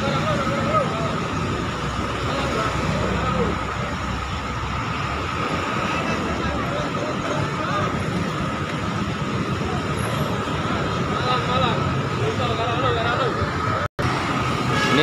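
Dense road noise of buses queued in jammed traffic at the Bungurasih terminal exit, with engines idling and rumbling continuously and someone talking over it.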